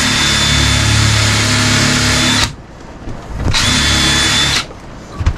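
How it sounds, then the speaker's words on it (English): A power drill drives screws with a countersink bit in two loud, close bursts of whining motor noise separated by a short pause, ending with a small knock. "Screw it on. I'm just using the countersink."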